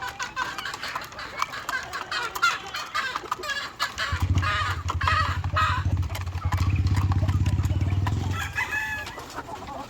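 Chickens, including laying hens, cluck and crow around a farm yard at feeding time, with a low droning hum rising underneath for several seconds in the middle.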